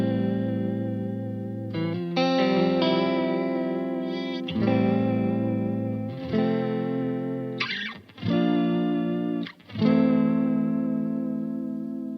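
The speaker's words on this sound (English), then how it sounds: "it's really sort of that 80s chorus sound without being too cheesy" Electric guitar through a STOY Choir Boy chorus pedal giving a lush 1980s-style chorus shimmer on simple sustained chords, clear and close with no voices.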